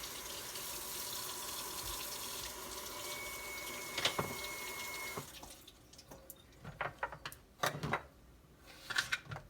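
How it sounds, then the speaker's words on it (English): Tap water runs steadily into a sink while a potato is washed, then the flow stops and leaves scattered drips, splashes and handling clatter, close and with no talking. "So let me wash another potato."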